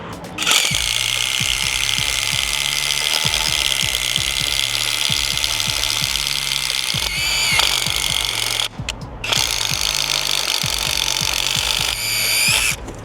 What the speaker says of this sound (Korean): 옆에서 한번 뚫어볼까?